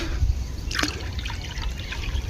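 Water is poured from a small pot into a sparrows' drinking dish made from a clay pot, a short splashing trickle heard clearly over faint outdoor background noise.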